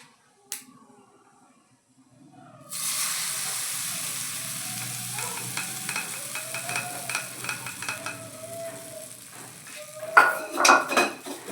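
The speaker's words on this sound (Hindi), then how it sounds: "और फिर हम इसमें तड़का भी तैयार है, अब इसको डाल देते हैं।" Hot tadka tempering is poured into a coarsely ground chutney, setting off a sudden loud sizzle that keeps crackling steadily, with clinks of a utensil near the end.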